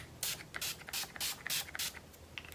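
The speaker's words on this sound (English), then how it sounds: "So I am using this Essence Keep It Perfect Makeup Fixing Spray." Essence Keep It Perfect makeup fixing spray fired in a rapid series of about six short, sharp hissing bursts, close to the microphone, with brief gaps between each spritz.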